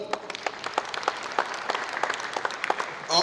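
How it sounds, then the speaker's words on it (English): Dense applause from an awards-ceremony audience, many hands clapping steadily for a few seconds at moderate distance, with no talk over it. "A round of applause for Harare Poly."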